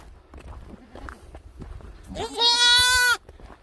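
A goat kid lets out one loud, sustained bleat close by, after a stretch of soft rustling and shuffling.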